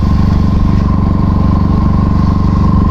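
A motorcycle rides through shallow seawater on Inani Beach, its engine a steady, loud, close drone with a rhythmic low pulse and a constant whine throughout, with no speech.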